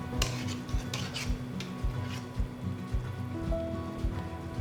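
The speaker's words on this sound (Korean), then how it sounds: "이제 이렇게 해서 생기는 거품들은 중간중간 걷어주세요." A metal ladle taps and scrapes in a pot of simmering chicken broth while foam is skimmed off, light clinks recurring at intervals over a low bubbling background.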